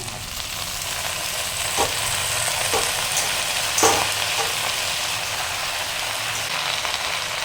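Continuous close sizzling of taro and potato frying in oil, with a few faint clinks of stirring; no voices.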